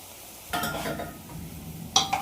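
Sambar masala curry stirred in a pot, made with homemade sambar powder: a soft bed of sizzle with two bursts of scraping, clinking stirring, one at the start and another brief pair near the end, no talking.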